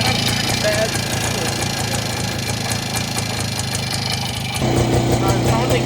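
A 1961 Harley Davidson Super 10 motorcycle idles nearby with a steady, slightly fast mid-pitched engine drone and faint knocking, a higher whine joining for the last second.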